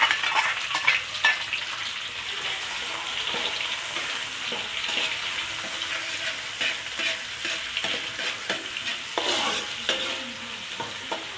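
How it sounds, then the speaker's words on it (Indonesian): Fried shallots sizzling in a hot pan as they are stirred, a steady crackling hiss with repeated scraping strokes of a utensil, close and clear with no talking. "Pertama-tama masukin bawang gorengnya guys."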